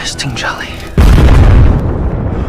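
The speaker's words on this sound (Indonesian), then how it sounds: "di kapal tersebut terdapat bom lalu meledak" A sudden loud boom from a bomb exploding on a ship bursts in after a moment of voices, followed by a heavy rumbling roar that slowly fades.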